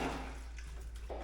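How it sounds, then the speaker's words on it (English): Chicken stock pours into a pot holding leftover Thanksgiving turkey pieces, a soft, faint liquid splash and trickle lasting about a second at close range. "Pour in the stock."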